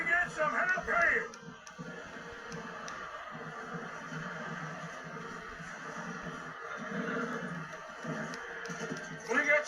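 In the Red Dead Redemption 2 video game, a horse whinnies loudly at the start and again at the end, with soft hoof clops and game voices talking between the calls.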